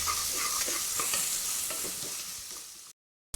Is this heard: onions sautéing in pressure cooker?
yes